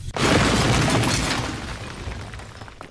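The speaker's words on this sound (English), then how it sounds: "add like a nice crashing sound to that." A loud crashing sound effect hits with a broad burst, then decays over roughly two and a half seconds, standing alone with no talk.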